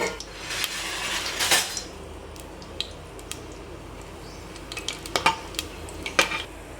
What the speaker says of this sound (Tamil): எண்ணெய் சூடானதுக்கு அப்புறமேட்டு பட்டை, கிராம்பு, ஏலக்காய், கல்பாசி பூ நம்ம எல்லாத்தையும் போட்டு தாளிச்சிக்கலாம்.